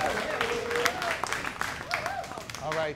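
A crowd at a Boston comedy club applauds and cheers as a comedian takes the stage. The clapping is steady and mixed with shouts and overlapping talk throughout.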